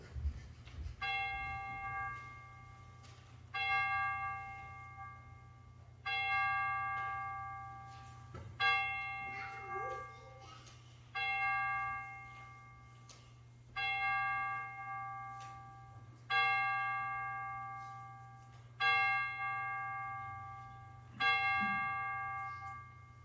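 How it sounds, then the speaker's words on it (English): Church chimes ring before a Sunday worship service, a slow sequence of about nine clear resonant tones, each struck note ringing out and fading before the next, over a low steady room hum. "we will let the chimes bring us into worship"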